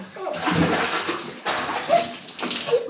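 Bath water splashes and pours in irregular bursts while a young child is being bathed, close and moderately loud, with short pauses between splashes.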